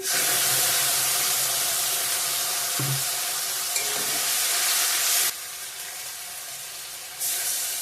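Ginger, green chilli and tomato paste sizzle loudly in a hot pan for an egg and potato curry, a broad steady hiss that drops in level partway through and then surges again near the end.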